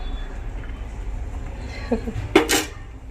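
A metal lid set onto a pot of cooking Maggi noodles in a home kitchen, a soft clink followed by a brighter metallic clatter, near and brief over quiet background hiss and faint room noise.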